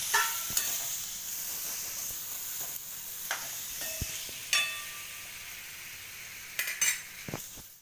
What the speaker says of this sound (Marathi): आता आपल्याला हा दोडका घालायचा जो दोडका मी कापून बारीक तुकडे करून ठेवला तर तो दोडका घालणार आहे आणि परत छान परतून घ्यायचं